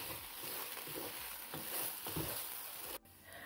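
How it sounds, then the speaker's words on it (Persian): Lentils toast in a pot for a detox soup, giving a steady, close sizzle with soft stirring scrapes and a brief clatter near the end. "حدود 1 دقیقه دیگه هم عدس رو تفت میدیم تا از حالت خامی در"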